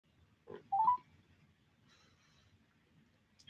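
A short burst of telephone keypad dialing tones, a few quick beeps close together near the start, followed by quiet line noise.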